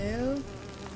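Wasps buzz in the video game Nightmares from the Deep 3, a loud close whining drone that falls in pitch and fades after a brief moment.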